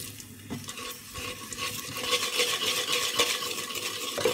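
Cumin masala sautés in a pot with half a crumbled chicken pulao stock cube while a spoon stirs it, making a close sizzle with repeated scraping and light clinks of metal.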